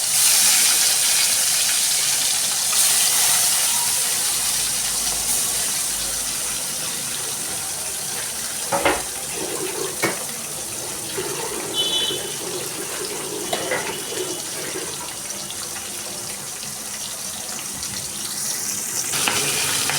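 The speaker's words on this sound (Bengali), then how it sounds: "আমার তেলটা গরম হয়ে গেছে, আমি মাছটা ছেড়ে দিচ্ছি।" Pabda fish slipped into hot oil in a pan, frying for a Bengali fish curry: a loud, steady sizzle and crackle fills the whole stretch up close, with a few sharper spits partway through and no talking.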